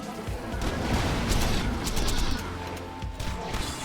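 Grenade blast and scattered gunfire in the shooter Borderlands 2, a loud mid-clip burst of crashing explosive noise amid continuous combat clatter, with faint talk under the action.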